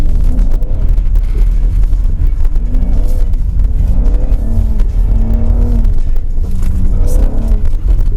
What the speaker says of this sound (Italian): per fare un po' di traversi abbiamo scelto la GLC 43